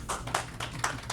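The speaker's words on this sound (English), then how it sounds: "We have a round of applause for the Durant kids who led the flag salute." Small group clapping at a board of education meeting, a few bursts of hand claps in uneven rhythm, close and moderate in level.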